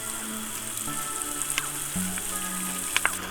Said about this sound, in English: with a couple of tablespoons of olive oil and then we'll sweat off the onions and garlic